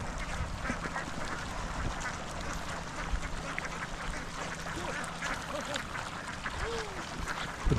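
A flock of ducks, both adult and young, being herded to graze, keeps up a dense continuous chorus of overlapping quacks with a steady outdoor background and no clear talk.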